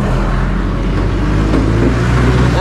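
A vehicle engine roars loudly and continuously after its exhaust pipe fell off, giving a raw, rumbling, unmuffled drone that stays close and steady throughout.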